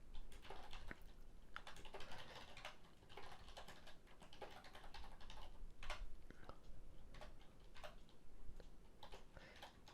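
Steady typing on a computer keyboard while filling out a form during a Windows Server 2016 installation, quiet close clicks in an irregular rapid patter with occasional sharper key strikes, no talking.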